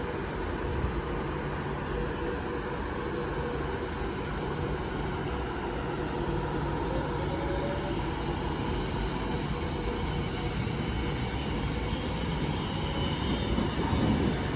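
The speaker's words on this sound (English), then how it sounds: "Train now departing is a 390 going to Manchester Piccadilly." Class 390 electric train departing Stockport station toward Manchester Piccadilly, a steady low rumble and hum with faint rising motor tones, continuous throughout.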